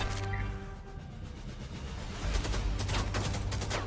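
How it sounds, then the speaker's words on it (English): Gunfire in the video game Helldivers 2 strikes heavy armor, a steady dense fusillade of shots and ricochets that swells louder midway through, with no speech. "Hear that? That's the sound of heavy armor,"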